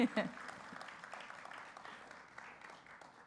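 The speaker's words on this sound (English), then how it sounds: "how about a round of applause for our four-legged friend putting the exclamation point on that part of our ceremony today" Applause from a crowd at an outdoor Vietnam War Veterans Day welcome home ceremony, fairly faint and thinning out, with a brief voice near the start as the clapping gradually fades.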